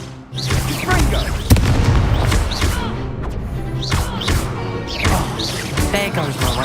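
Hogwarts Legacy battle: Confringo blasting spells fire off as repeated booming impacts and crashes, mixed with game music and shouted voices throughout.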